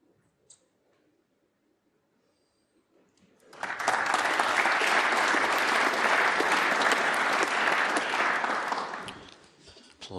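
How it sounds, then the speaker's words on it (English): After a few quiet seconds, a crowd at a snooker match breaks into warm, sustained applause that lasts about five seconds before fading out. "Applause for a terrific snooker from Fan."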